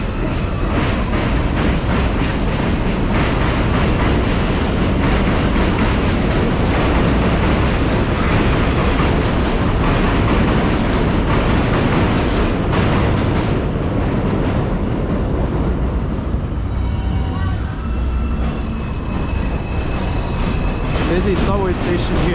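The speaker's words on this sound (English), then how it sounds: "This is the Mosholu Parkway subway station on the number 4 train." A loud New York City subway train on the number 4 line at Mosholu Parkway station in the Bronx rumbles steadily along the rails with a constant roar and rattling, and squealing metallic tones creep in near the end.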